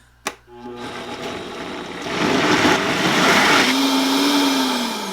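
A Vitamix blender whirs loudly through butternut squash vegan cheese sauce, a close, steady motor roar after a brief click at the start, rising in intensity and then settling into a sustained high whine.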